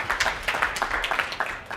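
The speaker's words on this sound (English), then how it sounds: "So give Ricky a round of applause." Audience at a WordCamp Sydney talk on page builders claps for a speaker, a short burst of dense, close hand-clapping filling the room.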